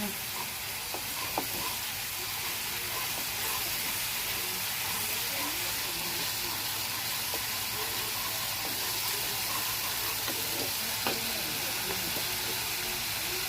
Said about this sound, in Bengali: এরপরে দেখুন এটা রসুন দিয়ে দেবো। এটাকে নাড়বো।